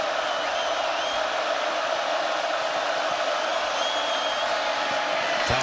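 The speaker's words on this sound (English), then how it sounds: "The crowd has been a constant tonight at Autzen Stadium." A football game crowd at Autzen Stadium roars as a steady, loud wall of noise with a few faint whoops rising out of it, and a commentator speaks over the din.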